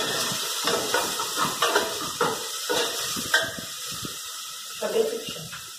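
Garlic, onion and bell pepper fry in hot oil in a pan, a steady close hiss with sharp crackling bursts throughout, with muffled voices at times.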